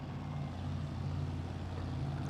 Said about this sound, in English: Sabrina's car fires up.